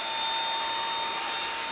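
Dyson V7 Animal+ cordless vacuum cleaner with mini brush attachment, running as a steady, loud motor whine with a high tonal hum and broad hiss, no pauses or talk.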